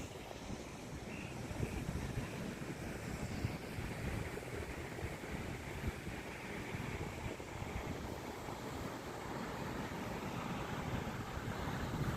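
Rough sea surf rolling onto the long sandy beach at Mahabalipuram, a continuous broad roar of breaking waves mixed with wind buffeting the microphone, steady and fairly loud with no voices.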